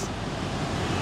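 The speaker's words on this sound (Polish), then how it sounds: "Już słychać po prostu ten wodospad." A waterfall in Africa roars as a continuous, broadband rush of water, steady and fairly loud, with no talk over it.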